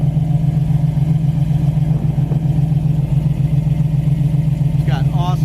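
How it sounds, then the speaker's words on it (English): A 1967 Chevy Camaro engine idles steadily through an aftermarket exhaust, giving a loud, continuous low burble with a strong droning tone and a brief higher sound near the end. "It's got awesome exhaust on it. Sounds nice."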